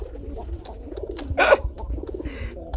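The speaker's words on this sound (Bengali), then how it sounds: "মাদিটা ধরলে বন্ধুরা নর কি পরিমাণ ডাকে খালি দেখেন" A male pigeon coos in a loft among other pigeons, with one loud, close burst of cooing in the middle over a background of softer bird calls and murmuring noise.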